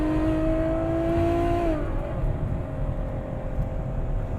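Ferrari FF engine holding a steady high-pitched note, then blipping and dropping as it downshifts, with road and wind roar beneath, loud and close, no talking.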